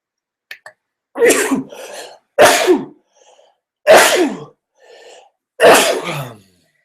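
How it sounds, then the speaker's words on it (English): A person sneezes several times in a quiet room, a run of four sharp, loud bursts, each with a sniff or breath between them, clear and close with nothing else heard. "I had a little sneeze coming on"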